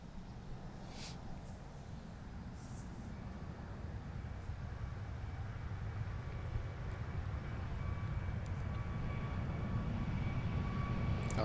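Jet engine roar of a Boeing 737-800 in the X-Plane 11 flight simulator during descent and landing, a steady broadband rumble that swells gradually louder, heard alone without talk.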